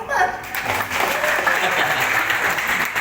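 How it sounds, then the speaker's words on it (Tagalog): An audience applauds at a chapter anniversary and installation breakfast, a steady wash of clapping that swells at once and holds, with a voice briefly over the start. "Palakpak naman."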